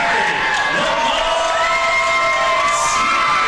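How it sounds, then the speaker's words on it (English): Loud crowd at a fight event cheering and whooping continuously, a dense roar of many voices with high shouts rising over it throughout. "This crowd is going crazy right now."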